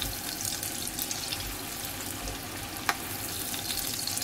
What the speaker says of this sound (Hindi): तो मैं इसको इतना फ्राई कर लेती हूँ प्याज को कि ये सॉफ्ट भी हो जाए